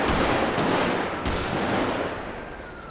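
Video game gunfire rattles as a dense, continuous burst of rapid shots, loud and close, sustained without pause and ending in a couple of sharp clicks.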